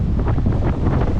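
Strong gusting wind buffets the microphone over a rushing sea surf along the coast after Typhoon Kristine, loud and continuous with no pause.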